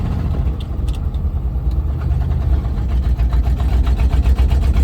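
A 1966 Jeep Gladiator with a 327 Vigilante V8 rolls through a subdivision, its steady low engine drone rising and falling as the driver tries for second gear, with faint rattles over the close, continuous rumble.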